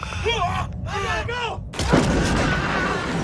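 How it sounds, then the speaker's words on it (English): An artillery bombardment during the D-Day landings erupts as a heavy, booming rumble that swells and carries on steadily after someone speaks briefly at the start. "Now comes bombardment by artillery."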